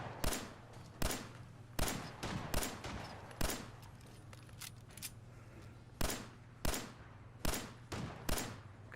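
Gunfire aimed at a turret in Fallout 4: about a dozen sharp, separate shots spaced irregularly over a steady low electronic hum, fairly loud and close, with a short quiet gap in the middle.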